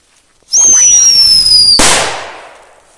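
A shrill rising whistle shrieks for about a second from a whistling firecracker, then cuts off in a sharp, loud bang whose crackling echo fades away.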